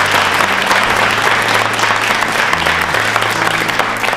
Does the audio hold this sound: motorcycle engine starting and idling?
no